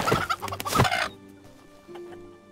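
Chickens clucking in short bursts close by, a few sharp calls followed by quieter scattered clucks.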